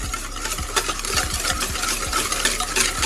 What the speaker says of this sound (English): we're gonna take a whisk,